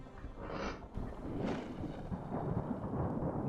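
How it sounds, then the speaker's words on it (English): Thunder sound effect in a concept album about 9/11: a low rolling rumble with a sharper crack near the start, swelling and lingering under a steady wash of noise. "There's the thunder again, at least."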